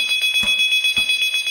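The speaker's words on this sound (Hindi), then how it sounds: "एक डार्क स्टोर में फोन की घंटी बजती है।" A phone rings in a dark store used for quick grocery delivery: a bright, rapidly pulsing electronic trill repeating in quick bursts, loud and close with no voices.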